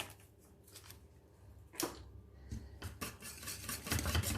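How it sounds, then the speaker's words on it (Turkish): A utensil stirs vanilla into milk pudding in a pot, making soft, quiet scrapes and clinks against the pot in irregular strokes. One sharper clink stands out, and there is no talk. "İyice karıştırıyorum"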